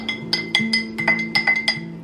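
A spoon stirs tea in a glass, its quick bright clinks against the sides ringing out in an uneven run of about a dozen taps, close up with no talking.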